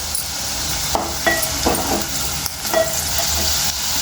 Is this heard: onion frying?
yes